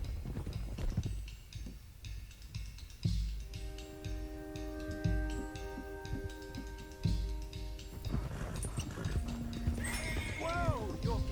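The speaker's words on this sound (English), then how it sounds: "Let's get these horses to Clemens Cove quick before we run into any more trouble." Horses in the Red Dead Redemption 2 Western game clop along with steady hoofbeats and give loud whinnies, close by, with a voice speaking in the background.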